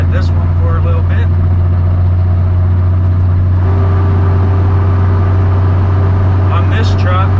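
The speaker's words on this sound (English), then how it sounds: "On this truck, the engine fan kicks on after 3 seconds of engine braking." A loud, steady low drone from a flatbed straight truck under engine braking, with the engine fan kicking on partway through to add a sustained higher tone, while a voice talks over it.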